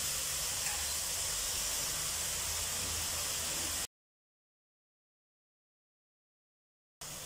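Sauce goes into a pan of frying capsicum, cabbage and macaroni, giving a steady, bright sizzling hiss that cuts abruptly to silence for about three seconds before briefly returning.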